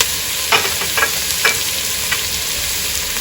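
Curry leaves and lemongrass sizzle in a hot pan as a spoon stirs them, giving a steady frying hiss broken by a few sharp scraping strokes, with no talking.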